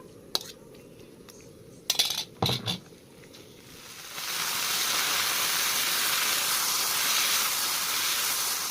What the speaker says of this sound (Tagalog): Stir fry ko lang muna po ito ang aking na marinate na chicken.